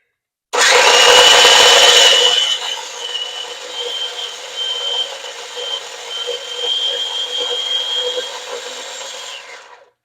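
A food processor grinds pesto with nuts, starting abruptly with a loud high whirring roar that eases after a couple of seconds into a steadier, slightly fluctuating motor whine before cutting off.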